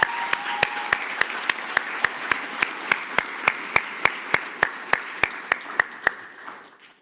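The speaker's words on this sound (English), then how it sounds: "Let's give them a round of applause again." An audience at a tourism ambassador speaking competition gives a round of applause, heard as a steady run of about twenty evenly spaced claps that carry on evenly before fading out at the end.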